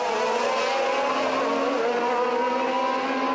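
Formula 1 race cars at the 1981 US Grand Prix, including a Talbot, produce a steady high-pitched engine whine that holds constant, loud and close, with no pauses.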